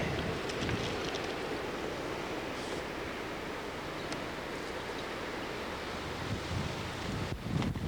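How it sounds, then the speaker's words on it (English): Strong wind blowing at a Sanibel and Captiva beach in Florida, a steady loud roar and buffeting across the mic with surf washing underneath, no talking. "wind's kind of blowing a lot"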